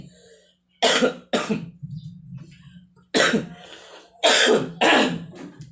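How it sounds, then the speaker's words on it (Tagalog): Several sharp coughs in a quiet indoor setting, two pairs of loud bursts separated by a brief pause, with a low hum running under them. "Talagang may ubo pa tayo."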